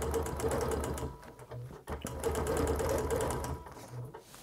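Sewing machine stitching a quilt guided by round quilting rulers, a fast, steady mechanical chatter heard close and continuous, with a brief pause midway.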